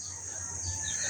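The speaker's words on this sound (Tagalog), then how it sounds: "Ayan yung manok ko." A chicken clucks briefly amid a steady hum of background noise, close by and fairly quiet.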